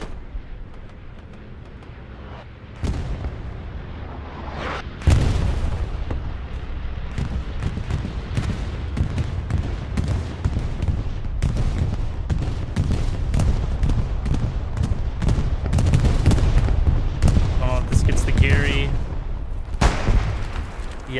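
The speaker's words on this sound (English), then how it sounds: "Bombing run is coming down." Bombing run explosions in Hell Let Loose during a competitive match, heavy booms and rumbling blasts that pile up loud and continuous over scattered gunfire, with faint voices in the mix.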